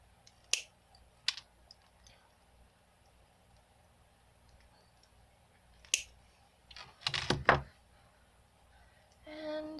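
Wire cutters snip the ends off a coiled wire ring, giving a few sharp, quiet clicks spaced apart, then a quick cluster of two or three snaps close together in a quiet room.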